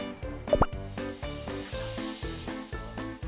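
Beef patted dry and laid into a hot oiled pan with salt: a steady, loud sizzling hiss that starts after an initial clatter and keeps going, with a rhythmic scraping or tapping pattern underneath.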